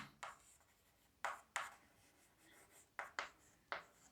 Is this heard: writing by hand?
yes